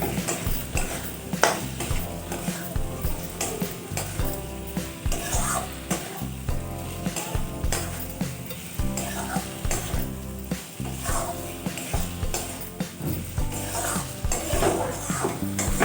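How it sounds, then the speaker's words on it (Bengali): Fried potatoes are stirred into a spiced masala in a pan, for a rohu fish curry with potato, with steady sizzling and frequent utensil scrapes and clinks. Background music runs throughout. "এখন আমি দিয়ে দিচ্ছি ভেজে রাখা আলু। এটা দিয়ে একটুখানি আমি কষিয়ে নেব।"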